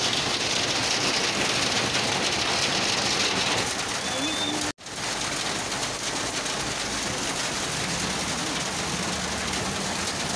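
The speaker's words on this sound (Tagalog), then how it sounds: "Ulan na ulan." Heavy rain pours down steadily outdoors, a dense continuous hiss that stays loud from start to finish with only a momentary break, while people talk now and then beneath it.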